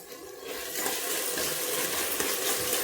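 Onions and tomatoes sautéing in oil in a pan for a Mysore-style brinjal curry give a steady, close sizzle with faint stirring scrapes, rising slightly after the first half second and holding even throughout.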